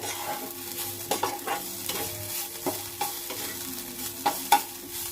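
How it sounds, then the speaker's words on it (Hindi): Capsicum sautéing in a pan for suji kachori, a constant sizzle under repeated close stirring strokes and spoon knocks against the pan, with no voices. "देखिए थोड़ा सा और फ्राई करूंगी मैं शिमला मिर्च को, हल्का सा ये सॉफ्ट हो जाए।"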